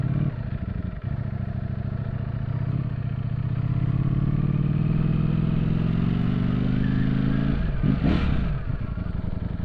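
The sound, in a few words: Ducati Streetfighter V4S motorcycle engine while riding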